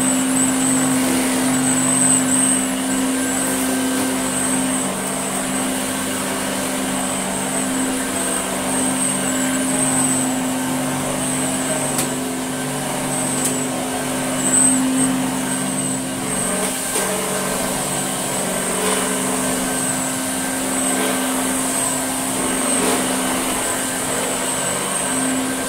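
A restored 1970s Electrolux Z504 upright vacuum cleaner runs on its low pile setting over a rug, a steady motor hum with a high whine that holds constant for nearly half a minute, with no voices.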